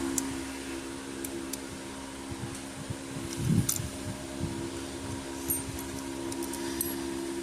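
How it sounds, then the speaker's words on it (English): An electric fan runs steadily in a room, a constant low hum with a brief louder rattle partway through and faint small clicks over it. "So please excuse the fan noise."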